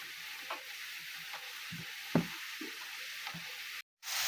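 Cutlets sizzling as they fry in hot oil, a steady broadband hiss with soft pops and a few stirring clinks, close and moderately loud, with a brief cut to silence near the end.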